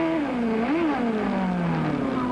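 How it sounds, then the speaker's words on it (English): An IndyCar race car's engine accelerates while entering the pit area under full course caution, a steady loud whining tone rising and falling in pitch, continuous throughout with no talk. "You heard him accelerate, and then when he got on the brakes, he locked up the rear brake"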